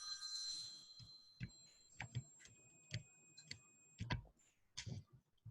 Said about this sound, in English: Is your phone ringing? Yes.